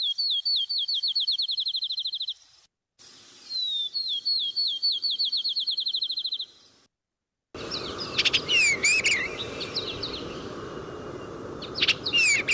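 Gray catbird song: two runs of rapid, repeated high chirps separated by brief gaps, then a louder burst of varied squeaky, chattering phrases over a steady background hiss.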